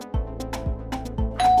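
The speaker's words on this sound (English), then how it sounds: "That sounds like your doorbell." Doorbell ringing in a TV advert for LPG gas delivery, three clear repeated chimes in even succession, loud and close with no talk.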